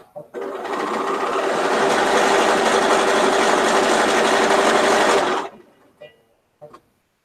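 A sewing machine stitches thin quilting fabric into four-patches, running in a loud, steady whir for about five seconds before stopping, followed by a few soft handling clicks.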